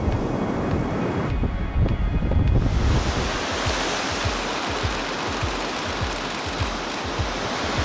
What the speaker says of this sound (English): got great sets of waves rolling in